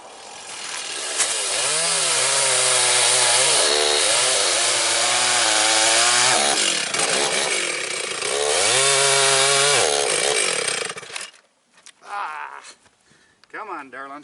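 A chainsaw cutting firewood runs loud and close, its engine revving up and down in repeated surges through the cut. It then sputters and drops to idle with scattered clunks near the end.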